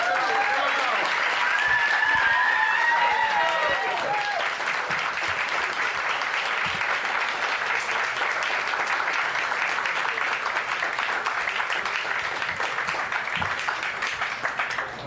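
Comedy club audience breaks into loud, sustained applause with cheers after a stand-up bit, a dense wall of clapping that holds steady for about fifteen seconds.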